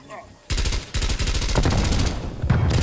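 MP5 submachine gun in Call of Duty Black Ops Cold War firing in long rapid automatic bursts, loud and close, starting after a short quiet lead-in with a brief break before resuming.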